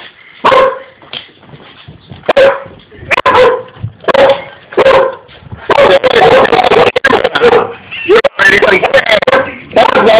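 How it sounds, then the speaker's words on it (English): A dog barks repeatedly, loud and close, in sharp bursts that turn into a rapid run of barks and yips, with a person talking over it. "At least you stopped barking."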